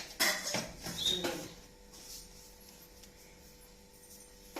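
Metal idli cooker plates clatter and clink against each other in a few quick bursts, then the handling fades into quiet room tone.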